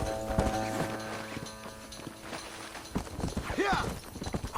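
Horse hooves clip-clop at a steady gait in Red Dead Redemption on PS3, close and fairly loud, mixed with game sounds and a brief voice toward the end.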